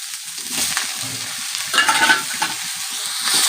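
Curry leaves and onion sautéing in a pan for a spicy tomato-onion chutney, giving a close, crackling sizzle with bursts of spatula scraping over a few seconds.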